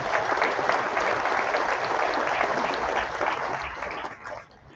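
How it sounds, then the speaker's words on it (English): A gala audience at a Hall of Fame celebration applauds in a full, dense burst of clapping that holds steady, then thins and fades out near the end. "Let's give a round of applause for that."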